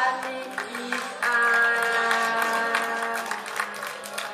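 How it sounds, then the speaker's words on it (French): An audience claps for a departing team at a video game quiz contest, the BAKA TAIKAI 2012. Even, moderate applause runs throughout over a sustained musical tone. "On peut les applaudir"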